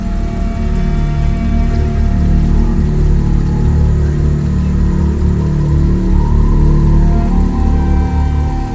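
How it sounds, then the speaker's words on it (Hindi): A parked car's engine runs steadily at close range, a loud continuous mid-pitched hum and whir with no breaks, alone without voices. "इंजन में तो चालू है,"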